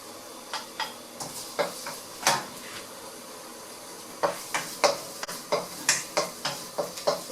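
Garlic for fried rice goes into a hot pan, giving a low sizzle under a string of sharp scraping and clinking stirs, sparse at first and then quicker and more regular.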